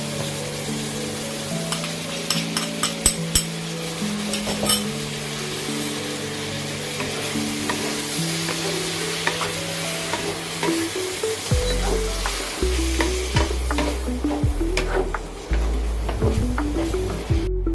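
An egg frying in a pan during a luncheon meat and shiitake mushroom stir-fry, crackling and sizzling steadily and close up, with scattered sharp pops and utensil clinks and no talking.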